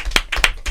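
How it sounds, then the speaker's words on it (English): Three slow, loud claps from a single person close by, evenly spaced with nothing else around them. "Why am I the only one clapping?"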